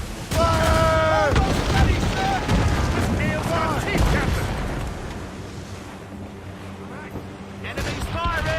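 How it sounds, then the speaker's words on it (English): Enemy ships unleash a cannon volley in the naval video game Assassin's Creed Rogue, heavy booming blasts rolling through the first few seconds, followed by a quieter rumbling tail and a fresh burst near the end. "Enemies firing. Ease off the wind! They're firing a volley."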